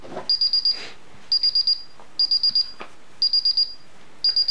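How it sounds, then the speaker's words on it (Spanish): Paradox alarm keypad (PCS250 test setup with SP4000 panel) beeping while the alarm is armed: five clear, even groups of four quick high beeps about once a second, close and loud with no talk. "Vamos a conectar la alarma."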